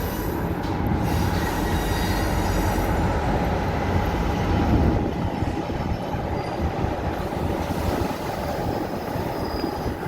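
A train hauled by a locomotive rolls through a station with a loud, continuous rumble. Its wheels squeal and screech on the rails throughout the ten seconds.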